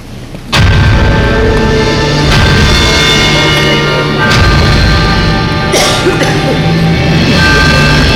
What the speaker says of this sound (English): we were doing it with a rocket that no man had ever flown before